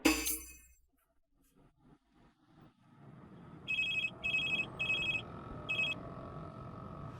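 A telephone bell rings in four short bursts after a quiet stretch, over a low background rumble, with a faint clatter at the start.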